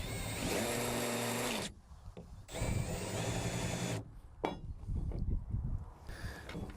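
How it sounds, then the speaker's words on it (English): A power drill spins a countersink bit into a screw hole in an aluminum L track, whining loudly in two bursts of a few seconds each, with short pauses and scraping between them. "just install that into your drill and just run it in that hole to countersink for the head of the screw"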